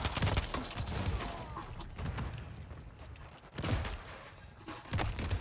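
Dense, continuous gunfire from Call of Duty: Modern Warfare 3 multiplayer, with rapid overlapping shots and bursts from several weapons in close succession and a few heavier blasts.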